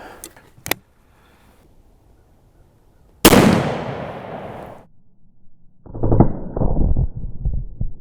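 A single loud shot from a .50 caliber CVA Accura muzzleloader loaded with a Hornady Bore Driver FTX bullet cracks out sharply and rings off, with a faint click before it and brief speech afterward.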